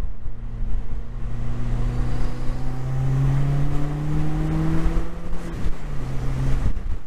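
A Subaru STI S208 engine drones steadily from inside the car, its pitch climbing slowly as it pulls, then dropping sharply near the end as a downshift blips the revs, loud and close with no talk.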